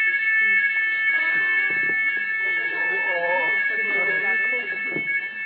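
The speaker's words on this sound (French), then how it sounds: "C'est une fausse alarme, hein, rassurez-vous, c'est juste la fumée dans la cuisine" A fire alarm set off by kitchen smoke sounds indoors, a loud, steady high-pitched electronic tone running without a break while people talk underneath it.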